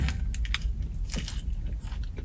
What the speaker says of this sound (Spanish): a ver ahora cómo cruje esto, el penúltimo bocado, a ver cómo cruje